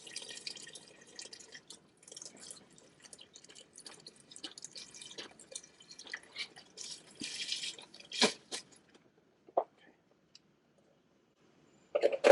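Chicken broth poured into a pot of chicken noodle soup, heard as faint, quiet drips and small splashes with a few louder liquid bursts near the end and no talk.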